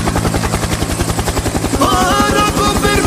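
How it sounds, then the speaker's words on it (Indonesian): A toy helicopter runs steadily and loudly, its rotor chopping in a fast even pulse with a whirring motor tone that shifts slightly partway through, heard alone with no talk. "Helikopter, helikopter,"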